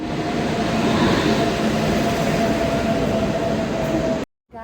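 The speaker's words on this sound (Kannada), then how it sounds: "ಟ್ರೈನ್ ಆಲ್ರೆಡಿ ಸ್ಟಾರ್ಟ್ ಆಗಿದೆ." A train rumbles steadily at a railway platform for about four seconds, loud and continuous with a faint tonal whine on top, then cuts off abruptly into near-silence.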